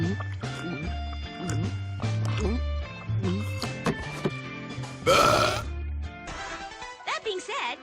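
A female animated character lets out a series of burps, several drawn-out, mixed with cartoon voices, music and a brief noisy burst, all close and fairly loud.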